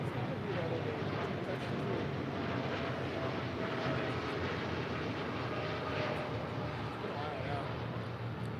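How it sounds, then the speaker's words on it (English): A United Boeing 787-9 Dreamliner departs Los Angeles airport bound for Washington Dulles, its jet engines a steady, broad roar held at a constant level, with faint voices talking over it. "That was United 1140 departing to Washington Dulles on a 787-9 Dreamliner"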